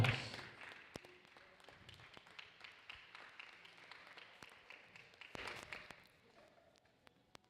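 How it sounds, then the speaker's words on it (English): Sustained crowd applause with scattered sharp claps and thuds, swelling again near the end before fading out. "In third place in the McLaren, give a round of applause for Arta Dodonka."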